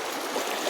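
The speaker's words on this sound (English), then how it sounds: "this is just like a little, not very deep, but a little river type" Shallow little river near Noori Waterfall, water flowing and babbling in a steady close rush with no break.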